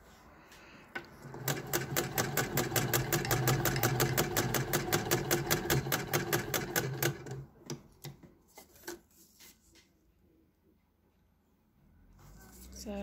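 Vintage Singer 99K hand crank sewing machine stitching two layers of faux leather: a close, quick rhythmic clacking burst of stitches for several seconds, slowing to a few isolated clicks, followed by quiet handling sounds.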